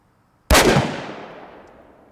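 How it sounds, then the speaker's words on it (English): A single sharp, loud gunshot from a .50 Alaskan hand cannon firing a 725-grain round into stacked ballistics gelatin blocks, with a sudden blast followed by a long fading rumble. "We're gonna go run another shell through ballistics gelatin."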